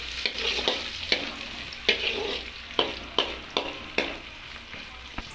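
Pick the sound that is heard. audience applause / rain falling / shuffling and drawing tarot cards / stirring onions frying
stirring onions frying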